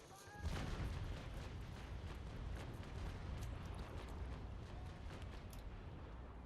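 Ship cannons firing during a naval battle in a video game, a loud booming volley at the start that rolls into a long, dense rumble of continued gunfire and crackle, with faint talk underneath.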